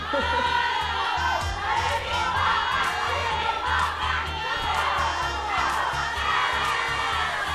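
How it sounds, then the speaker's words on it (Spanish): A studio audience at the Cantando por un Viaje singing competition applauds and cheers the singer Gustavo, a dense, loud, sustained wash of clapping and crowd noise lasting the whole stretch. "merecido aplauso para Gustavo."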